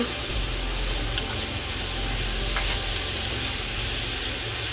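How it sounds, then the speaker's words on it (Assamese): Ground paste of whole cumin, coriander, ginger and garlic frying in oil in a wok, a steady close hiss and sizzle that runs unbroken throughout. "এইখিনি ভাজি তেলটো ওলাই যায় তেতিয়ালৈকে আমি এনেদৰে ভাজি লওঁ।"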